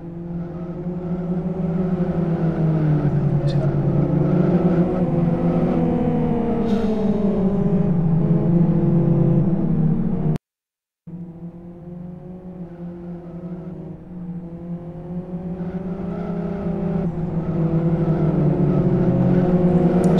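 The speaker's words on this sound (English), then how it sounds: "Looks like Streeter's gone a bit excessive with his tyre warming." Race cars at Kyoto 250 qualifying idle and rev on the grid before the start, a dense, continuous engine drone with shifting pitch and revving swells, loud and steady apart from a brief dropout midway.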